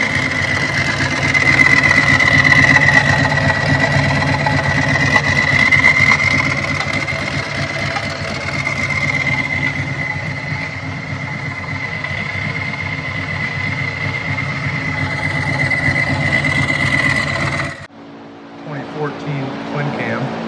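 A Harley-Davidson Twin Cam engine runs on a dyno during tuning, droning loudly and steadily with a sustained whine, then cuts off abruptly near the end, leaving quieter background noise.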